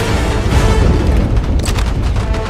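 Heavy gunfire and booming explosions from a Call of Duty: Black Ops 6 battle cutscene fill a loud continuous barrage with dense low rumble and repeated sharp impacts.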